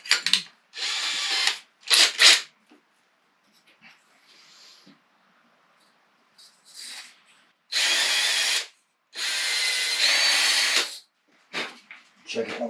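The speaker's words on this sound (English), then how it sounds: "But while I have the medium size reamer chucked up in the drill, and we're doing both of these the same, we're going to go ahead and ream this one." A power drill spins a medium reamer through a fishing rod grip part for an inshore spinning rod, in several loud bursts of a few seconds each, separated by quiet pauses with faint handling sounds.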